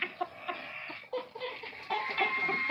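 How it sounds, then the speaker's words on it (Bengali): An Aseel rooster clucking and calling in a series of short, fairly close vocal bursts, some louder than others, with other fowl sounds mixed in and no talk. "এটাও আসিল মোরগ।"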